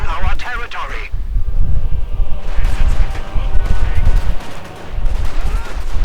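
Gunfire from a Company of Heroes 2 match, including a German MG and Grenadiers with a light machine gun against Soviet conscripts, crackles in dense bursts with booming impacts beneath steady commentary.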